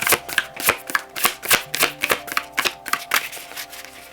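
Large oracle cards are shuffled by hand in a quiet room. The stiff cards make a steady run of sharp, papery slaps and riffles, close and clear, with no talking.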